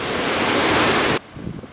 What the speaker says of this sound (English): Plunging breakers have the classic barrel shape where the waves curl and the crests fall forward with a lot of force.